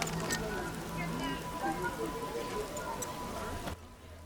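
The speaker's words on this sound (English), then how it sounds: "What a downpour!" Steady heavy rain in The Witcher video game pouring down, a dense hiss of drops that cuts off abruptly near the end.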